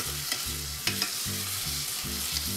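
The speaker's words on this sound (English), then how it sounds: "while we're letting all of our tomatoes sweat in our sofrito here" Tomatoes stewing in a sofrito in a pan, a soft continuous sizzle with a few sharper crackles scattered through, steady and fairly quiet, without voices.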